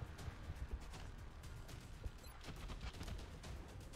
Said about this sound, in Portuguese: Tiro limpo. 2 de dano.